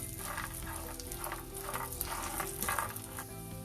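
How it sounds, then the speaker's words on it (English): Peanuts frying and roasting in a pan with red chilies: a steady, close sizzle with soft stirring scrapes running throughout, no voices. "We'll add peanuts. We'll fry till peanuts gets roasted."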